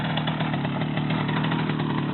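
A Romet motorcycle engine runs steadily at a low, even idle-like hum as the clutch is eased out on a first ride, loud and close with no voices over it.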